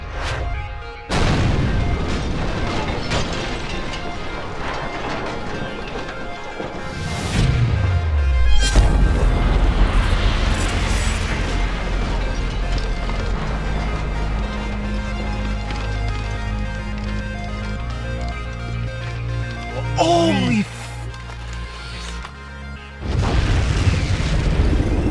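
A homemade potato cannon fires a golf ball, giving a sharp, loud blast near the start followed by long stretches of dense rumbling and clattering noise with further bursts toward the end, close to the listener.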